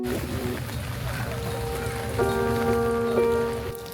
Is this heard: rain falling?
yes